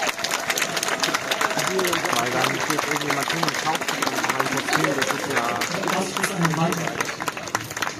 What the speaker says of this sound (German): ein großen Applaus für die Judges